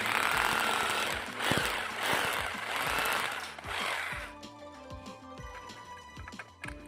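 A power drill bores into a wall in bursts for a few seconds while a light steel post is mounted, then stops, leaving quieter clattering and mechanical knocks.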